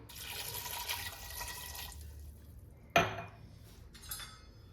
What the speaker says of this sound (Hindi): नींबू डालने के बाद हम इसमें डालेंगे 1 गिलास पानी।